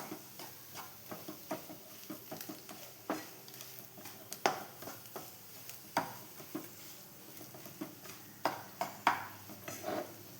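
Curry being stirred and mixed with coriander leaves in a pan, with a spoon scraping and tapping against the pan in irregular soft strokes over a faint low sizzle, close and quiet, with no talking.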